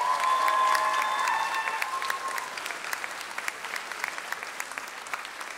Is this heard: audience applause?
yes